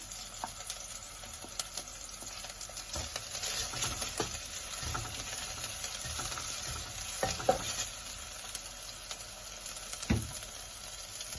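Green chillies and curry leaves fry in a pan, a quiet steady sizzle with scattered spatula taps and scrapes, a few sharper clicks standing out, with no talking.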